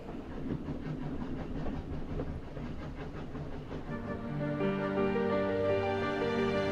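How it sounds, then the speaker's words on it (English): A train travels along its rails in the video game 80 Days, a steady rumbling rhythm of wheels, joined near the end by a sustained tonal hum. "The train itself was comfortable enough and fast."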